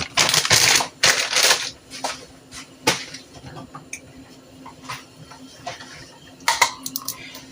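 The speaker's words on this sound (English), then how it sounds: "I am using the mixed vegetables, the frozen. This is the family size. This is 2 pounds. So I'm gonna put all that in there." Two pounds of frozen mixed vegetables poured from a family-size bag into a pot, a loud crunchy clattering rush at first, then scattered rattles and clicks that thin out, with a final brief clatter near the end.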